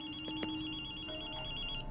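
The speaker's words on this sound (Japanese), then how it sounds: "電話だぜ。" Electronic telephone ringing inside the video game Ghostwire Tokyo, a steady repeating tone with a couple of sharper bell-like strikes early on, heard alone and fairly close without speech.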